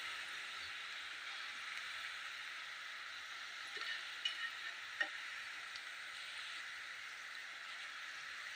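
Assamese pitha fries in hot oil with a steady, fairly quiet broadband sizzle. A few faint clicks and stirring touches come through near the middle.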